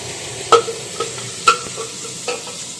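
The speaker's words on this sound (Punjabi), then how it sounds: "ਹੁਣ ਇਹਦੇ ਵਿੱਚ ਆਪਾਂ ਟੋਮੇਟੋ ਪਿਊਰੀ ਪਾਵਾਂਗੇ ਇੱਕ ਵੱਡਾ ਟਮਾਟਰ" Tomato puree cooks in a pan of mutton curry, a soft frying hiss under a few distinct clinks and scrapes of a spoon stirring against the pan.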